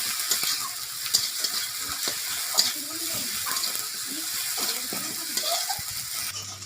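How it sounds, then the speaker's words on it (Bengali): Turmeric and chili powder being stirred in a frying pan while making bhindi masala, a steady close scraping and mild sizzle with intermittent utensil knocks, no voices. "হলুদের গুঁড়ো দিয়ে দিচ্ছি, লঙ্কার গুঁড়ো দিয়ে দিচ্ছি। ভালো করে নাড়িয়ে নিচ্ছি।"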